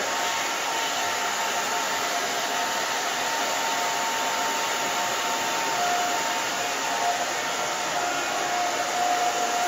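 A hair dryer blows steadily and close while short hair is styled, a continuous loud whoosh holding even for the whole stretch with no talking over it.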